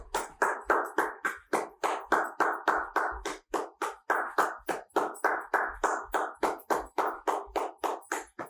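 Steady rounds of hand clapping, roughly two to three claps per second with brief pauses, close and fairly loud, accompanying a dog relaxation training exercise where a dog holds a sit while the handler jogs.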